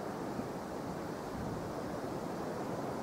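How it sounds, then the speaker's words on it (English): Steady, heavy wind roars and buffets the microphone throughout on a golf course, a constant broadband rush with no voices. "it shows you how windy it is"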